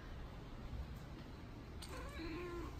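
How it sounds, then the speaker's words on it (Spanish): A pet cat gives a short, soft meow near the end, faint against steady room hiss. "Miau."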